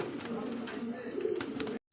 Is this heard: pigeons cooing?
yes